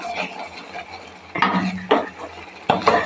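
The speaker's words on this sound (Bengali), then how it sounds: "এটাকে ভালো করে কষিয়ে নিতে হবে।" Spatula scraping and clanking against a kadai while green peas and rohu fish masala are stirred and sautéed, irregular metallic knocks up close over a quiet sizzle.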